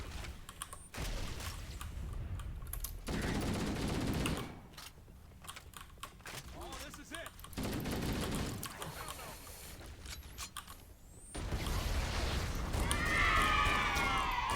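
An assault rifle firing in the Halo video game, heard as several rapid bursts of automatic fire with quieter gaps between them, fairly faint overall.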